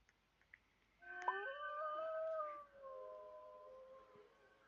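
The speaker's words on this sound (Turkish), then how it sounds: "kurt sesleri geliyor" Wolves howl in a zombie survival video game: long, sliding wails that rise and then fall, fairly loud and layered in overlapping tones for about three seconds after a short quiet start. No one talks.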